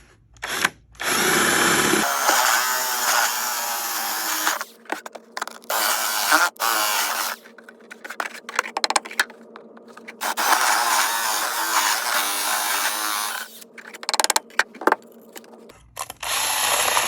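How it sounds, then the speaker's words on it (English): A power drill revs up loudly and bores through wood for a box ukulele sound hole in several bursts, whirring and grinding with brief pauses between runs, then winds down. "I'm going to mark the center of the hole so the drill doesn't slip."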